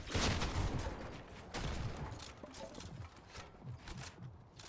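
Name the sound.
hand cannon gunshots in Fortnite video game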